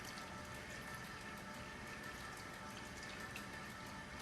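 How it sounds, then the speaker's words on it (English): A kitchen tap runs steadily into a sink, a constant full rushing of water close by with no pauses and no voices. "Let me turn the tap off. It's running"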